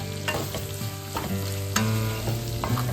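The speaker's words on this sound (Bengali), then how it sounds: "এই যে এইদিকে চলছে হচ্ছে আমার চিংড়ি মাছ ভাজা" Prawns frying in a pan, with a steady close sizzle and occasional scraping stirs of a utensil, no voices.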